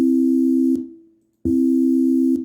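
Two steady electronic pure tones a major third apart sound together. They are loud and sustained, cut off for a brief silent gap partway through, then resume.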